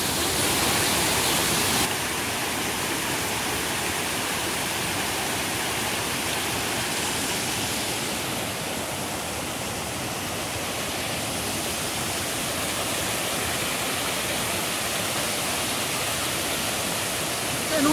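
A waterfall on a stream pours with a constant broadband roar that stays loud and steady throughout, with no voices audible.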